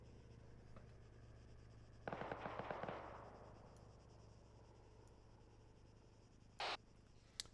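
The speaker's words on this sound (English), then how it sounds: "Shots in the direction of the red" Gunfire during a military training exercise around a town's multi-story buildings: a crackling volley of sharp reports echoing off walls, then quiet, then one more distant shot over steady background noise.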